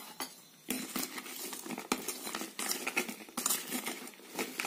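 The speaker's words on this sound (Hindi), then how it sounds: "पहले इसको मिक्स कर लेती हूँ अच्छे से।" Mango pickle masala is mixed with oil in a bowl, a spoon scraping and clinking against the sides in quick, irregular strokes, close and fairly quiet with no talking.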